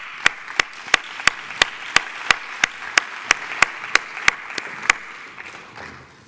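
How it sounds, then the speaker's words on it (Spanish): Applause from the audience at a cybersecurity conference on women's participation in the field, a dense wash of clapping punctuated by a steady series of sharp, loud claps roughly every third of a second, fading out at the end. "Démosles la bienvenida a todos con un fuerte aplauso"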